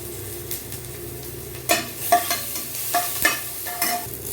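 Onion and green chilies fry in hot oil, a quiet sizzle that turns busier halfway through as a spatula scrapes and taps the pan several times.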